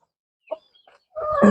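Country hens kept inside a netted coop let out a couple of soft, short clucks, then a louder, drawn-out call close by at the end.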